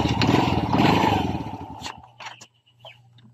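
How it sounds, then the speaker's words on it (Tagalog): A Honda Wave 100 motorcycle's engine is cranked and catches briefly with a loud, rough clattering burst, then dies away into a few scattered clicks and mechanical taps. "Andar na natin ang motor"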